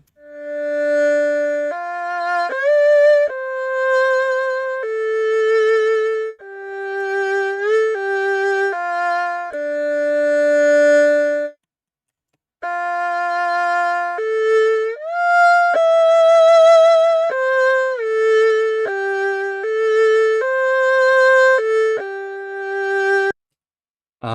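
A dry, synthesized single-line melody with clean sustained notes and sliding pitch, no echo or reverberation, playing in two long phrases separated by a brief silence.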